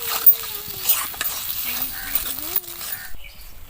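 Spice masala with Kashmiri chili powder and salt sizzles in a pan for dhaba-style chicken bharta while a spoon stirs it in soft scraping strokes, with a faint voice in the background.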